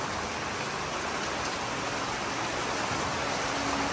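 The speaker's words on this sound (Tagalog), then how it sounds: "Malakas ang ulan pero biglang umapaw dito ang tubig." Heavy rain pours down during a flood in Borongan, a dense, even hiss that stays loud and unbroken throughout with no voices.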